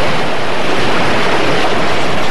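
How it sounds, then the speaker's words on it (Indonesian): Ocean waves surging far up onto land, an audio-drama sound effect: a loud, continuous rushing wash of surf with a windy hiss and no voices. "ombak itu kemudian naik jauh ke tengah daratan"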